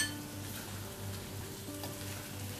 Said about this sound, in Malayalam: നമ്മുടെ എണ്ണ ചൂടായിട്ടുണ്ട് അതിലേക്ക് നമ്മൾ അരിഞ്ഞ് വെച്ചേക്കുന്ന സവാള സവാള ഇട്ട് നമുക്ക് വഴറ്റി എടുക്കാം